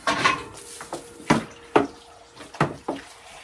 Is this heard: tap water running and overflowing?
yes